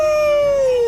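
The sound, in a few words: werewolf howl in Minecraft video game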